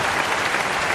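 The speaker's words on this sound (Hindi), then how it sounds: "ताली बजा दो" Steady applause from an audience at a Hindi comedy poetry gathering, a dense, even wash of clapping that fills the whole moment without a break, close and fairly loud.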